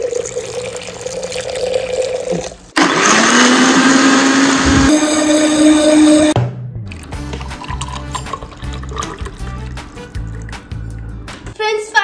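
An electric blender grinds potato with cold sweet golgappa water, roaring in a loud, steady high-pitched whir that rises in pitch partway through, then gives way to quieter clattering and background music.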